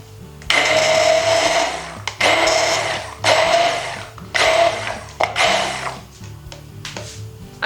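A blender pureeing strawberries and tofu whirs loudly in five bursts of a few seconds each, separated by short pauses, close by and with no talking.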